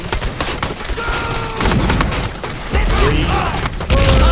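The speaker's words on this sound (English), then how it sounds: "What we need are a few more grenades into that group." Grenade explosions in a Medal of Honor Vietnam War game set at the Battle of Khe Sanh, loud booming blasts and splintering debris over continuous gunfire, with a man counting aloud.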